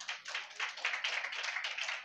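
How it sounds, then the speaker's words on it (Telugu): Scattered clapping from a small group at a Bible study class, a brief, fairly faint burst of hand claps with uneven rhythm. "చప్పట్లు కొట్టండి వాళ్ళ కోసం"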